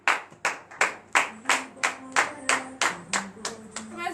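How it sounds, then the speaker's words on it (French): A church congregation clapping in unison during a Beninese morning prayer, about a dozen strong rhythmic claps in a steady beat, with faint singing or chanting tones underneath. "Et donner de vives acclamations pour notre Dieu."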